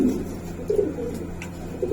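A Giribaz pigeon coos in soft low bursts, close by, with short pauses between calls and no talking.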